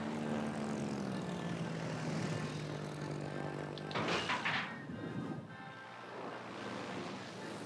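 Propeller aircraft drone from a Stuka dive bomber flying in World of Warships: Legends, a steady loud engine hum with a falling pitch, joined by a brief burst of noise midway and continuing over a rushing background.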